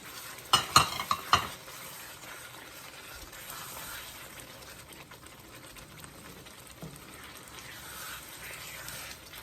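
Vegetables go into a frying pan for traditional African pasta: a few sharp clattering knocks at the start, then a continuous soft sizzle and stirring that carries on steadily and fairly close.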